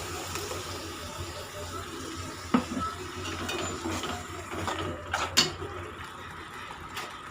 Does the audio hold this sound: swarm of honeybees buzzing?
no